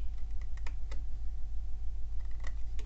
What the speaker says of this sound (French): Ensuite, je vais venir avec mes ciseaux faire une coupe droite sur mon pli.